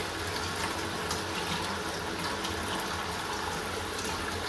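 Steady rushing water runs without a break, a constant broadband wash like a tap pouring over a pan, close by and with no talking.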